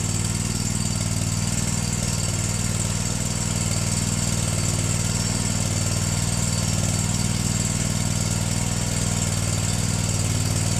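A zero turn lawn mower engine runs steadily at idle with the air cleaner fitted, a loud continuous droning hum with a constant vibrating rumble and no pauses.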